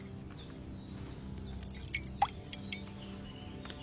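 Potion liquid poured during alchemy in Kingdom Come Deliverance 2, heard as faint, scattered drips and small plops, one slightly more distinct, over a quiet steady background drone.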